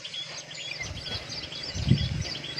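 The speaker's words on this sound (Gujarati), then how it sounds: "સવારના પંખીનો કિલોર" Morning birds chirp and twitter softly during rainy weather, scattered high calls over a faint background hush, quiet and somewhat distant, with no talk.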